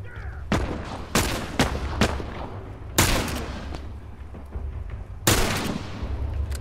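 Enemy gunfire in The Last of Us Remastered, five or six sharp, loud single shots at irregular intervals, each with a booming tail that echoes away before the next.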